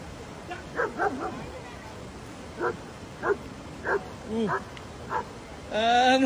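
A dog barks in short, separate yips and woofs while facing a tiger, about eight sharp barks spaced irregularly, with a louder whimpering cry at the end.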